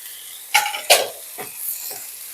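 Flat beans and pumpkin being added to a pan and stirred for a spinach ghonto, with two sharp scraping stirs followed by softer clatters and a faint sizzle, close by.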